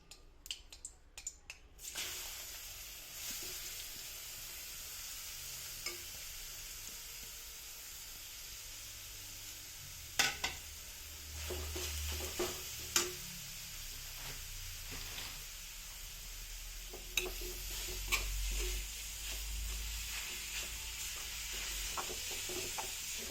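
Grated carrots fry in ghee in a kadai for carrot halwa, a faint, soft sizzle and hiss with occasional quiet stirring scrapes and taps, distant and low, with no talking.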